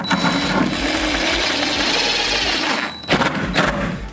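A power drill drives a screw through a climbing panel into a wall stud, a close, loud whirring spin lasting about three seconds that stops, followed by a couple of short bursts.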